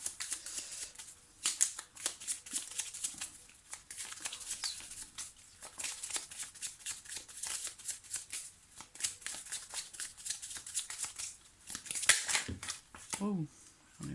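Tarot cards are handled and drawn in quick, papery riffles and soft flicks that continue almost without pause, with a brief voice near the end.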